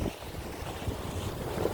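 Strong seaside wind buffets the microphone at a rocky shore near Jumunjin, Gangneung, in the early morning, a constant loud roaring rush with no break and no voices.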